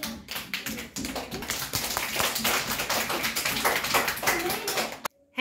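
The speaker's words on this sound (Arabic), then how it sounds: "هيا صفقوا لأمير" A group of children in a classroom clap together in a quick, steady rhythm for about five seconds before stopping abruptly, with faint voices underneath.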